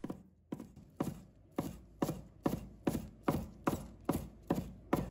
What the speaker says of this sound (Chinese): 再准备几根小葱，直接切成葱花。